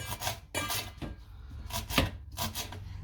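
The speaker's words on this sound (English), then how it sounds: "And now I'm gonna chop the parsley." A knife chops parsley on a wooden board, a handful of separate taps and scrapes at an uneven pace, close and fairly quiet.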